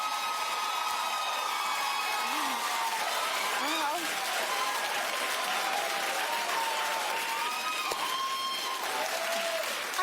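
Studio audience on a daytime talk show clapping steadily and densely for the full stretch, a broad wash of applause with a few voices and whoops rising over it.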